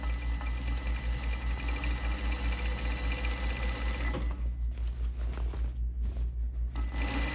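A sewing machine runs a rolled hem along the notch of a tote bag, a steady fast mechanical whir with close rhythmic pulsing that continues evenly throughout.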